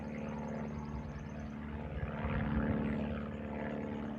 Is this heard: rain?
no